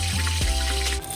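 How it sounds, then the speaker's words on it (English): Water pours steadily from a container into a cooking pot over a stove, a short continuous splashing trickle close to the microphone. "So right now, all I'm going to do is add some water."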